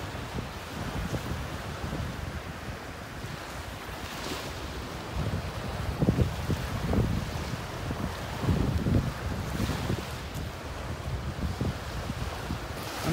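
Waves washing in on a beach in North Naples, Florida, a continuous surging roar with gusty wind buffeting the microphone and swells building and easing every few seconds.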